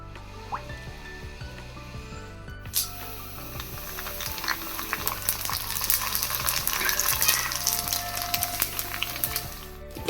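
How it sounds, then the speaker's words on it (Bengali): Fuchka puri shells fry in hot oil for dahi fuchka, a steady crackling sizzle that swells and grows busier after a brief pause, with occasional clinks and stirring close by and a low background hum. "এইবার ফুচকাগুলো একটু ভেজে নিই"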